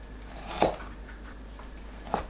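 A knife slices smoked pork belly into 0.5 cm strips on a board, two quiet, distinct cuts about a second and a half apart, with no talking.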